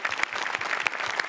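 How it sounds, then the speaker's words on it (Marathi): A studio audience at a Marathi comedy show claps in a dense burst of applause, steady and fairly loud, with a few sharper individual claps standing out. "जोरदार टाळ्या पुन्हा एकदा."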